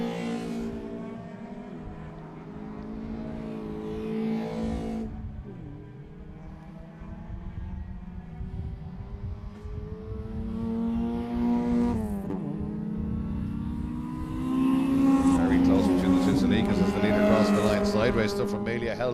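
Racing cars on the ICCR race circuit accelerate hard and rev up through the gears, engines droning loudly as they pass, while a commentator talks over the noise.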